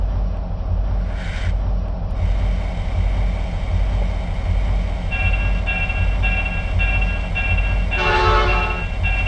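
A Conrail SW1500 switcher locomotive runs in the Trainz railroad simulator game, with a steady droning engine rumble throughout, a short horn toot early on and another louder horn blast near the end.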